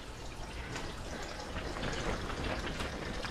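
Water trickles and drips steadily from a hydroponic pump line into Dutch buckets, a soft, continuous splashing fill with no talk over it.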